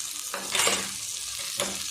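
Capsicum and cowpeas sauté in a spiced masala, giving a steady close sizzle with three distinct scraping stirs through the pan and no voices.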